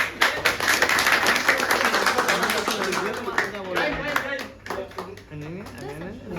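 At an office farewell, colleagues clap for a departing coworker in a burst of quick, fairly close claps. The clapping fades over the first few seconds as people begin talking over it.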